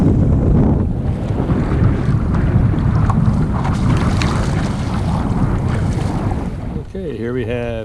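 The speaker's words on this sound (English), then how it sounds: "Got a pretty good breeze coming in" Strong breeze gusting across open water near mangroves on a kayak trip, a loud continuous rushing roar buffeting the microphone close up with faint water sloshing underneath throughout.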